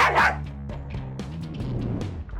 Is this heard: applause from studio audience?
no